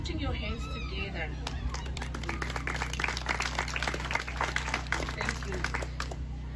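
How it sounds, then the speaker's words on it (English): An audience at a community development event claps together, a dense patter of hand claps under a low steady hum, with voices murmuring through it. "Please applaud yourself by putting your hands together."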